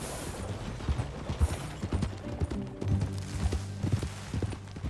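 Horse hooves clip-clop at a steady walking rhythm in Red Dead Redemption 2 at the Beecher's Hope ranch, close and fairly loud, with a low musical drone underneath.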